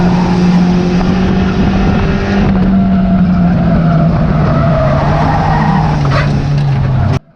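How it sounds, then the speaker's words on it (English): A race car slides through a bend at the Cowdenbeath Racewall oval: a loud, close engine roar held under a long tire skid and squeal, cutting off abruptly at the end. "the car just slides out and my dad just manages to catch it"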